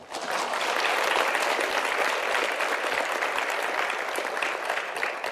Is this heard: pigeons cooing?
no